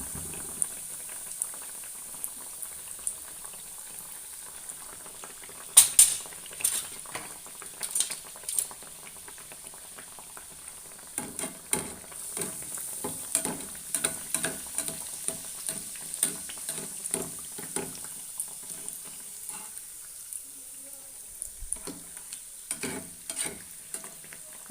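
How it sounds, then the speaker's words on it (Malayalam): Bread dipped in egg and coated in breadcrumbs fries in oil over a low flame, with a steady close bubbling sizzle and occasional clinks and scrapes of a utensil against the pan. "മുട്ടയിൽ മുക്കി ബ്രെഡ് ക്രംസിൽ മുക്കിയിട്ട് നമ്മൾ വറുത്തെടുത്തിട്ടുണ്ട്"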